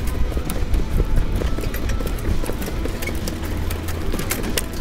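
Horse hooves clip-clop in a steady rapid rhythm during a harness race, close and loud over a constant rushing background of wind and track noise.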